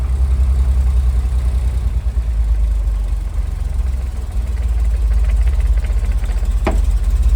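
A 1969 Chevy C30 truck engine idles steadily with the clutch pushed in, a continuous low rumble with no rattle, running alone for several seconds with a brief sharp click near the end.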